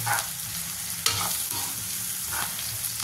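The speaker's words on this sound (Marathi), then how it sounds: "2 चमचे तिखट फिरवत राहायचं." A spoon stirs spicy kartoli vegetable with chilli powder in a hot pan, making repeated scraping strokes over a constant close sizzle.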